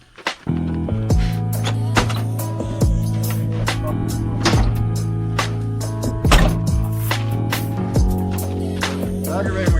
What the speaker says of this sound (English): And that noise you're hearing, that's the pump.